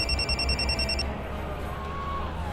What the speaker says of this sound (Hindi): एक मिनट, फोन आ रहा है।